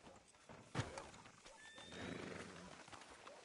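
A horse whinnies sharply in Red Dead Redemption, the clip-clop of hooves continuing beneath, outside a sheriff's office in a western town, with quiet background ambience.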